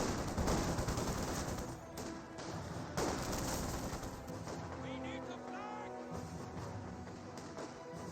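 A support gun firing rounds in the Company of Heroes 2 battle game, several sharp gunfire bursts and impacts over a rumbling battlefield bed, with a voice talking over the noise.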